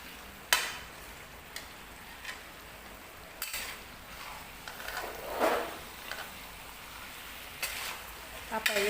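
Yellow pumpkin sabzi, halwai-style kaddu with spices, sizzles and fries in a pan, with a steady crackle broken by occasional sharp clinks and scrapes of stirring.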